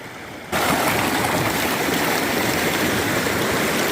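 River water rushes loudly and steadily across a stream crossing in the Southern Alps, starting abruptly after a brief half-second of quieter background and then staying continuous and close for the rest of the clip.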